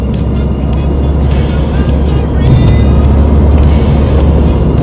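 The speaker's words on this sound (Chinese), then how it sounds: "特别喜欢泄压阀的这种声音，清脆的这种感觉" A used Subaru Impreza WRX turbo car runs with a steady engine drone, and two short, crisp hissing chirps from the blow-off valve come as the throttle lifts.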